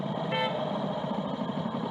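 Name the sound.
car horn honking from behind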